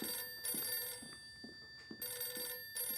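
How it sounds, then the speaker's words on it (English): A telephone rings in a children's storytime scene, with two clear bursts of ringing separated by a short pause, fairly close and alone with no talk over it. "Excuse me, I better get that phone."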